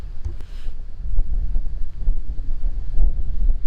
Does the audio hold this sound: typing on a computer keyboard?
no